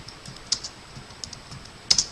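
Sparse clicks of keys being pressed on a computer keyboard, a few soft taps with one sharper pair, close by in a quiet room.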